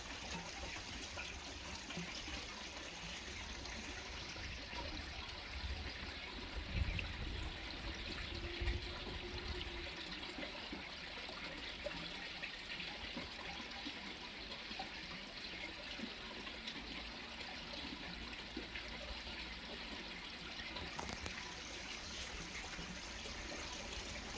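Acriflavine dose, about 180 ml, being poured into a container of pond water gives a faint, steady liquid trickle that continues quietly throughout with no talking.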